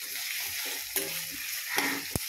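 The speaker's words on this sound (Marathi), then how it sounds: "हा कांदा जो आहे तो आपल्याला फास्ट गॅसवरती व्यवस्थित फ्राय करून घ्यायचा आहे" Chopped onion and green chillies fry in hot oil over a high flame, a steady close sizzle with a few stirring clinks and scrapes, heard alone.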